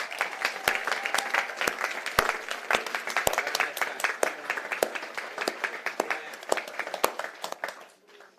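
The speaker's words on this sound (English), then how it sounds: "give them a big applause" Audience at a flyfishing championship closing ceremony applauds for several seconds. The dense clapping comes with scattered sharp individual claps and gradually fades out at the end.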